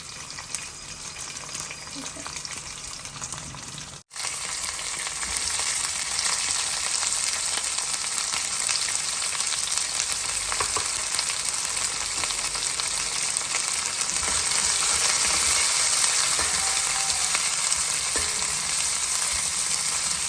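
Chopped onions frying in a pan, a loud continuous hiss and crackle that cuts out for a moment early on, then carries on steadily and evenly.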